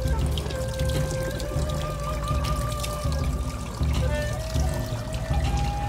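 Water poured from a ladle at a Japanese shrine purification fountain, a continuous splashing trickle close by, with faint tonal sounds in the background.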